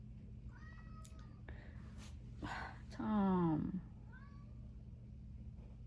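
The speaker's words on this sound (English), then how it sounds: "No, Tom's meowing, goddammit." A pet cat named Tom meows several times indoors, with one louder drawn-out meow in the middle, while a person talks over the quieter calls around it.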